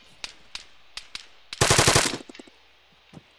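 Gunfire in the military video game Arma 3: a few sharp single shots spaced apart, then a loud automatic burst of about ten rapid rounds, trailing into scattered fainter cracks and one last distant shot.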